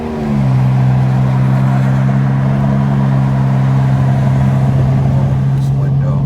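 A BMW E46 330i drives along steadily, its engine a loud, even drone with constant road noise running from start to finish.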